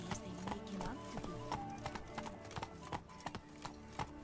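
The horse Roach trots in The Witcher 3, hooves clip-clopping in a steady, fairly quick rhythm over game music and ambience.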